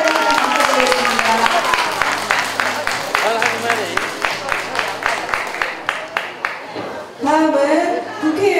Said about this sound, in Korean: 큰 박수로 축하드립니다.